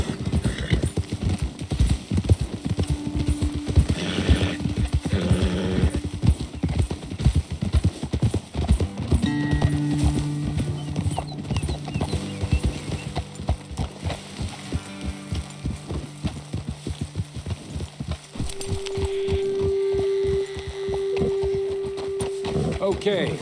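Horses' hooves pound in a steady, fast galloping rhythm in the video game Red Dead Redemption 2, close and continuous, with tonal background music and a few brief voices over it.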